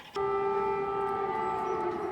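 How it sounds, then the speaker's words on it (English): An air raid siren in Kyiv starts abruptly and holds a loud, steady wailing tone with a sustained pitch that carries on without pause. "air raid sirens, a reminder, if they needed it, the threat is not gone."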